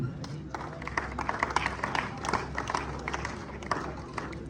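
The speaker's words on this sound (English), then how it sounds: "clapping for them." Scattered hand clapping from a small group honouring cadets at a ceremony, steady and moderately loud over a low background hum, with voices murmuring underneath.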